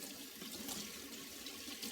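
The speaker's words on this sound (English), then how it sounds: "and then we rinse off again with warm water" Warm water runs steadily from a sink tap over soapy hands being rinsed, a soft continuous splashing hiss, quiet and close.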